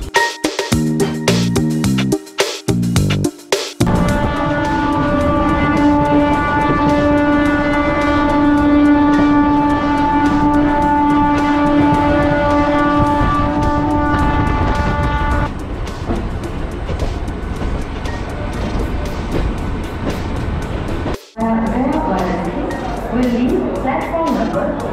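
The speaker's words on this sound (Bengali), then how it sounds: "সামনেই ঢুকছে কুলিক এক্সপ্রেস" The Kulik Express, train 13053, pulls into an Indian railway station with a loud, sustained horn blast of about eleven seconds. Rumbling and clattering wheels and station noise follow the horn.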